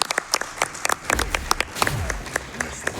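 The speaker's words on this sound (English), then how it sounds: "Yeah, let's clap for that." An audience at the Summer Games Done Quick 2022 speedrun event claps enthusiastically, a dense patter of many hands that stays lively throughout, with a few low voices mixed in.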